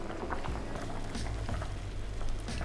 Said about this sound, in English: allow that sauce to come to a gentle simmer